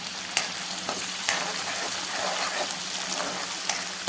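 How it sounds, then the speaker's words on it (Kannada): Mustard seeds and cumin crackling in hot oil for a tempering, a soft steady sizzle with scattered sharp pops and spatters at a moderate distance. "ಈಗ ಎಣ್ಣೆ ಕಾದ್ಮೇಲೆ ಇದಕ್ಕೆ ಸಾಸಿವೆ, ಜೀರಿಗೆ, ಒಗ್ಗರಣೆ ಹಾಕ್ಕೋಬೇಕು"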